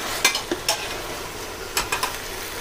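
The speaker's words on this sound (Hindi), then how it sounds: "बस इसमें डाल देते हैं ये फ्राई आलू और बस इसको सिर्फ आपको मिक्स करना है" Fried potatoes tossed into chilli sauce in a pan for roadside-style chilli potato, with a few soft scrapes and clinks of a spoon stirring over a faint, low sizzle.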